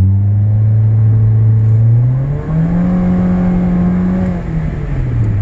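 A 2013 Nissan Altima's 2.5 engine with the muffler removed drones loudly and throatily, revving with pitch rising and falling in steady sweeps and a deep rumbling tone throughout.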